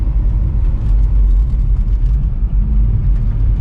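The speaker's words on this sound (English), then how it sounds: "Road is a little bit noisy." Steady low rumble of traffic on a nearby snowy, washboarded rural road, a continuous loud engine-and-tire drone with no distinct pass-bys and no voices.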